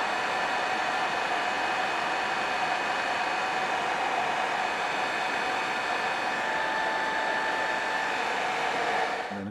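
A hair dryer blows steadily to dry paint on a model brick wall for a diorama, a close, loud, constant whooshing hum that runs unbroken and cuts off at the end.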